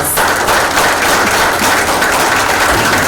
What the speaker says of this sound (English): So let's give them another round of applause for